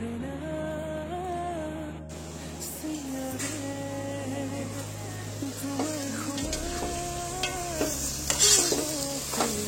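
Close-up stirring and sizzling as meat and onions fry in a pan, with scraping of a spoon and steady crackle throughout.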